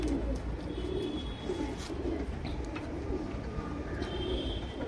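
Flying pigeons from a breeding pair coo softly in a loft, low repeated calls under a steady background hum with a few faint chirps.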